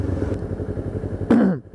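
A Kawasaki Ninja 250 R fitted with an SC Project exhaust rumbles along at moderate volume, then gives a short, sharp rev that rises and quickly falls away near the end.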